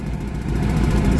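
MG two-seater sports car with a K series engine idling, a steady low rumbling throb heard close and fairly loud, with no talking.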